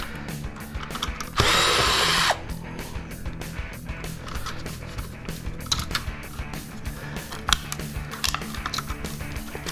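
Power drill backing screws out of discarded electronics for scrap, a loud sustained whir followed by repeated short bursts and clicks of the driver, close up.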